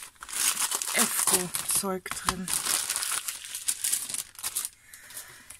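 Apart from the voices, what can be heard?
tearing open paper of an advent calendar door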